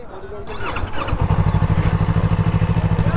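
A Yamaha R3 sport motorcycle engine thrums nearby. It starts faint, then settles into a loud, rhythmic low pulsing like a throaty idle, while people talk over it.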